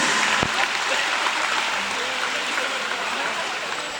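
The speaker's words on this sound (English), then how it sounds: "Ladies and gentlemen, give a round of applause for our volunteers." Audience applause at a night killer whale show at SeaWorld San Antonio, steady and moderately loud clapping from a crowd that holds for the full stretch after one sharp early clap.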